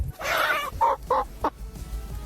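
A chicken clucks loudly and close by, with one drawn-out cluck followed by several short, evenly spaced ones over a low outdoor rumble.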